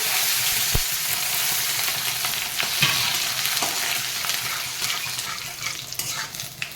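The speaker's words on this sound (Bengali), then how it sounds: "রসুনটা তেলের উপরে দিলাম রসুনের ফ্লেভার হেভি লাগে" Garlic frying in hot oil with spices for a Bengali hilsa-head and Malabar spinach dish, a steady loud sizzle with occasional stirring scrapes throughout, no talking.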